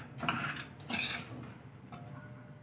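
Spoon scraping and stirring a peda mixture with ghee in a nonstick pan, soft metallic clinks and brisk scrapes in a few close bursts.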